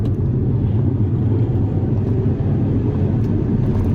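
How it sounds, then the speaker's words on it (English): A Mercedes CLS320 diesel accelerating hard with the pedal floored, a steady, loud low engine drone heard from inside the cabin that holds throughout without a break. "Look, I'm going to accelerate."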